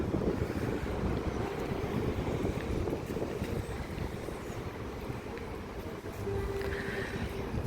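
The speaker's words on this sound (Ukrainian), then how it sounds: "Щось тут вітер такий піднявся." Steady wind rushing and buffeting the microphone outdoors near a forest in Kharkiv, a continuous low roar throughout with no voices.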